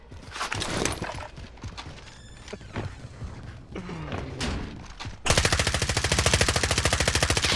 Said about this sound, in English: I just died to a shotgun.